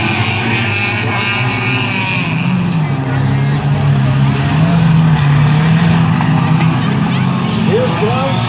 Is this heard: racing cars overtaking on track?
yes